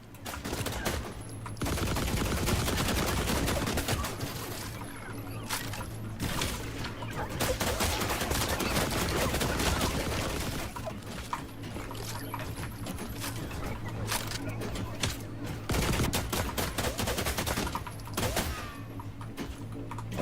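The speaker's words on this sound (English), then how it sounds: "I don't know what the heck he's shooting at." Sustained gunfire in The Last Caretaker, dense rapid bursts of shots blending into a continuous rattling barrage for most of the stretch, with brief lulls between volleys.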